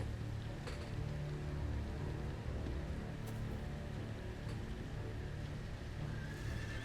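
A horse whinnies in the Telltale Game of Thrones game, faint in a quiet outdoor scene with light rain, low rumbling ambience and a few soft hoof clops.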